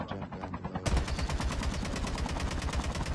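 Automatic weapon fire in COD Mobile, a fast rhythmic string of loud close gunshots that starts abruptly after a brief quieter moment and continues to the end.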